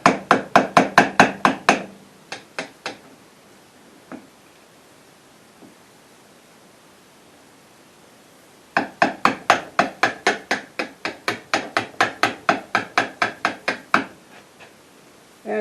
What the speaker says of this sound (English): Chipping off the corners.